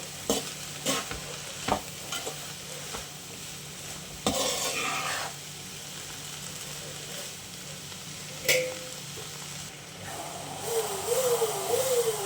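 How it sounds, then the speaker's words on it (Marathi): Peas, beans and potato are stirred in a hot pan for a tawa pulao: repeated scraping clinks and rattles ring out over a steady frying sizzle, close and fairly loud, with no talking. "आता यामध्ये आपण मटार परसबी आणि बटाटा घालून घेऊया मिक्स करूया"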